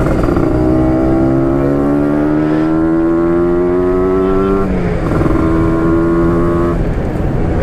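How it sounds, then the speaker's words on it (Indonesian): Loud, close Yamaha RX King two-stroke motorcycle engine held at high revs with a raspy, buzzing exhaust, the pitch climbing slowly before dipping once and settling back, under steady riding noise with no talking. "Bang Dodi naik motornya gila, nggak ada angin, nggak ada apa, digeber-geber mulu"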